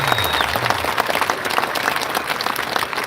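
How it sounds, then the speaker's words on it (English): Sustained applause from a large crowd at a 2025 high school graduation ceremony, steady and dense throughout, with a few cheers rising over the clapping. "Let's give a huge round of applause for the class of 2025."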